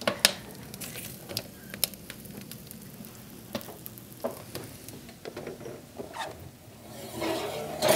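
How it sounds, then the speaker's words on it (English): Food sizzles and crackles steadily in a pan on a wood cookstove, with scattered pops and sharp clicks, growing a bit louder toward the end. "Got lots and lots of sizzling action going on."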